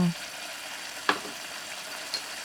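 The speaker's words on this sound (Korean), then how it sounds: "타지 않게 중불에서 볶아주세요" Squid stir-frying in a pan with seasoning over medium heat, a steady close sizzle with a sharp clink of a utensil against the pan.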